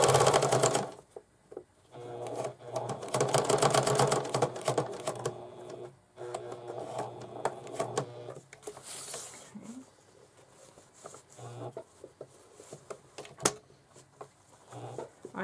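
A home sewing machine stitches fabric for a zippered pencil bag, running in steady rapid bursts of clatter that stop and restart as corners are turned with the needle down, with brief pauses and small handling noises between runs.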